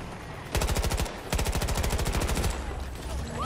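Rapid automatic gunfire in the Battlefield 2042 video game, two sustained bursts of loud, close shots in quick rhythm separated by a brief pause, with a softer tail afterward.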